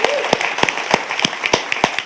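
A small group at a community theater talkback claps in a loose, evenly paced rhythm of distinct, close-sounding hand claps, with a faint voice at the start.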